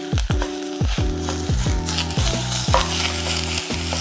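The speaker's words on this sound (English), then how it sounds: "we're putting that big old grade A American Wagyu ground beef in" Grade A American Wagyu ground beef frying in a pan, a loud close sizzle broken by regular scraping stirs about every half second, with no talk.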